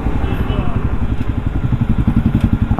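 A newly delivered motorcycle's engine chugs steadily at low speed while being ridden in to park, a close, continuous low rumble with people talking over it.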